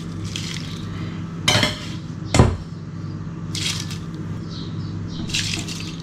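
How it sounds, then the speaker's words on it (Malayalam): Rice is tipped into milk boiling in a pot, giving two brief clattering splashes close up over a steady bubbling background, with no talking. "അപ്പോൾ ഇനി ഇതിലേക്ക് അരി ഇട്ട് കൊടുക്കാം."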